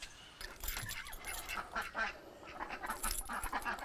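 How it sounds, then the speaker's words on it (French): Ducks quack continuously nearby as an animal keeper feeds them, a busy overlapping chorus with a faint metallic rattle mixed in. "je vais nourrir les canards"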